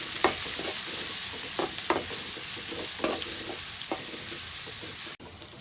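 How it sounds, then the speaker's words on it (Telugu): Onions and green chillies frying in a pan with ginger and garlic for pasta: a loud, steady close sizzle with occasional scraping stir strokes, cutting off abruptly at the end. "అల్లం వెల్లుల్లిపాయలు వేగాక పచ్చిమిర్చి ఉల్లిపాయ ముక్కలు ఇలా వేసుకోవాలి"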